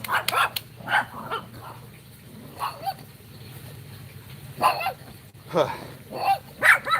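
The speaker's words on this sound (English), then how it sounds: "Alright, so now these dogs are gonna completely fucking annoy us." Dogs barking in a garden: short, sharp barks and higher yips come in scattered bursts over several seconds, at moderate distance, with quieter gaps in between.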